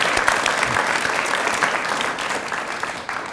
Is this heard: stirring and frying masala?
no